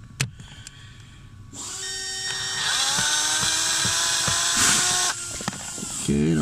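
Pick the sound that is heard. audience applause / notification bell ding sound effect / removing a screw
removing a screw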